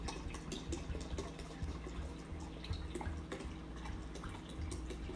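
Cold water runs into a Mr. Beer plastic fermenter while brewing an Oktoberfest lager, a quiet, continuous trickle and splash with scattered drips and gurgles throughout.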